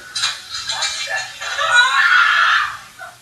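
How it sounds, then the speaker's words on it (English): A person's high-pitched screaming squeal used as a sound effect, loud and close, rising and wavering in a few bursts before holding a long shrill peak and then fading. "It's a high-pitched squeal. That was a person screaming."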